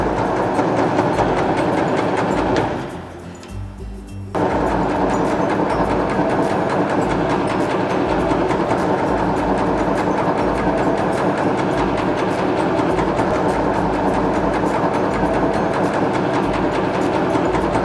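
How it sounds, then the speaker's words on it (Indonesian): A Getra SJ280 meatball forming machine runs with a loud, steady mechanical drone and rhythmic rattling, pausing briefly near the start before continuing at full volume, with no voices. "Kita nyalakan mesinnya, langsung kita cetak."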